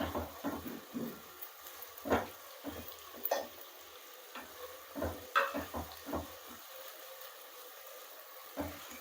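Country chicken curry with ginger stirred and frying in a pan, with intermittent soft sizzling and scraping knocks from the spoon at an irregular rhythm, close and fairly quiet.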